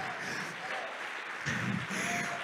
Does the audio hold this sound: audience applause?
yes